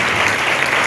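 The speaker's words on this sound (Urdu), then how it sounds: "وہ ایک دفعہ زوردار تالیاں بجائیں" A church congregation applauds loudly for the Lord's glory, a dense, steady roar of clapping filling the whole moment with no pauses.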